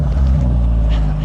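A BMW M8 Competition Gran Coupe with quad-tip dual exhaust idles after a remote start, a loud, steady low engine rumble with no break.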